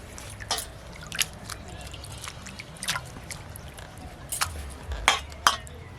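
Mustard flowers are rinsed in a bowl of water with a few splashy sloshes and drips, while a low murmur of voice and soft clinks sound nearby.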